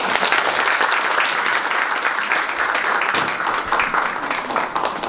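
Seminar attendees applaud a lecturer, a former dean of engineering at Seoul National University, after his talk on technology and the fashion textile industry: dense, steady clapping from a full room, unbroken and fairly loud.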